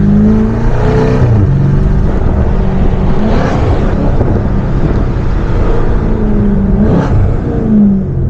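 A 640 hp BMW M550i accelerates hard through its gears at night, heard from inside the cabin. The loud exhaust drone rises with each pull and dips briefly at every shift.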